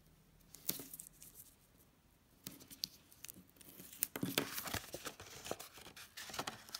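Tear tape being pulled and pressed onto a paper treat box, close crinkly tearing and rustling in irregular bursts, busier toward the end.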